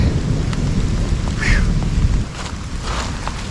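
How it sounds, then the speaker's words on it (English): Outdoor thunderstorm at a fishing spot by a dam, with steady heavy rain hiss and low rumbling thunder rolling underneath, loud and continuous. "Highest thunderstorm come up on me so quick"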